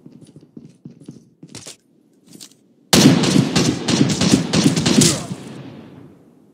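Sentry gun in Call of Duty: Mobile firing a loud, rapid burst of automatic shots lasting a few seconds, preceded by faint scattered clicks and distant shots.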